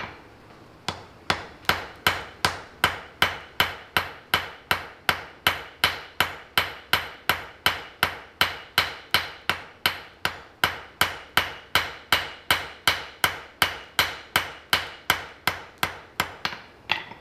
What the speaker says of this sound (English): I'm going to ball peen next.